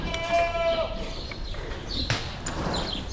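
Goats on a farm bleat a few times during kidding season, the calls wavering and fairly close, mixed with farmyard movement and background noise.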